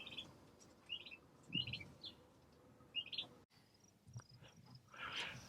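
Young chickens on a farm give short, high peeping chirps in scattered bursts, fairly faint and close, over a quiet background hum with a soft continuous insect-like trill.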